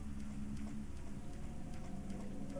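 Steady rain in the horror game Deadly Premonition, a continuous soft hiss with faint patters, heard alone at low level through the whole stretch.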